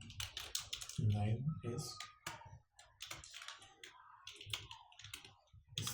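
Rapid, light clicks of typing on a computer keyboard patter in irregular bursts under someone speaking at close range.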